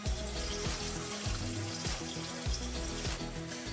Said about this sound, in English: I'm rinsing out the excess starch from the rice